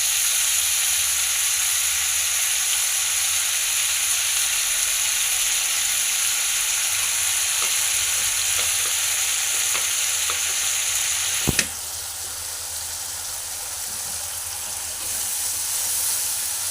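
Spice masala with a splash of water sizzles and bubbles in hot oil in a pan, a loud continuous hiss with one sharp clatter near the end, after which the frying settles slightly quieter.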